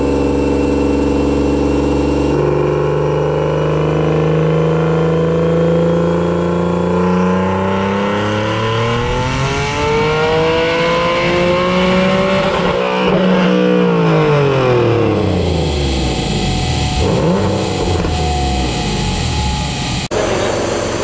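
Single-turbo Nissan 370Z on a dyno, engine revving hard in a long continuous pull, pitch rising steadily to a peak then dropping off sharply, loud and close with no talking.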